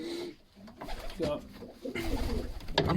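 Stock pigeons coo softly in a loft, their low rolling calls mixed with someone talking nearby.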